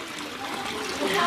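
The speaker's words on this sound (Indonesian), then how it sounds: "Ada suara gemericik air dari kolam ikan." Water from a fish pond in a home garden trickles softly and steadily, a continuous gentle babble up close with no voices.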